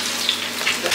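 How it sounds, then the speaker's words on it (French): An egg frying in a pan for a Tunisian brik gives a close, bright crackling sizzle with small pops across one continuous second. "On frit l'œuf ici."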